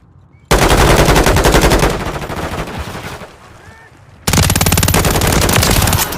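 Friendly gunfire in a video game: loud, sustained machine-gun bursts that pause briefly, then resume at full volume, with a voice speaking over the shooting.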